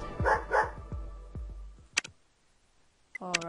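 A dog in the Criminal Case video game barks in a quick burst of several short yaps, followed by a couple of sharp clicking interface sounds, with no talk.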